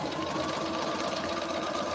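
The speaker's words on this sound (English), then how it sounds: "I'm going to sew that first seam through the paper" A sewing machine set to a short stitch length runs a seam through paper in foundation piecing, giving a continuous close, rapid mechanical hum and patter with no pauses.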